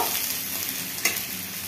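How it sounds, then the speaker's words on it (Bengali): Sliced onions fry in hot oil with a steady, dense sizzle throughout, broken by one brief stir or scrape near the middle; no voices. "পেঁয়াজটাকে একটু হালকা হালকা করে ভেজে নেব।"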